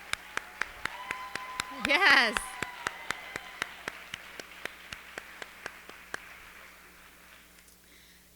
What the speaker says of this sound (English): much deserved round of applause?